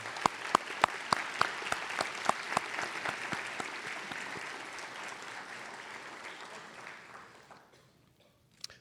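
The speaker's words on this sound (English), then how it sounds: "Just give them applause if you don't mind." At a nursing school white coat ceremony, the audience applauds veterans and service members who stand to be recognized. A few sharp, close claps ride over a broad crowd clapping that slowly fades to near silence.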